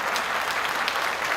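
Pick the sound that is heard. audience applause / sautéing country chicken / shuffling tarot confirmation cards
audience applause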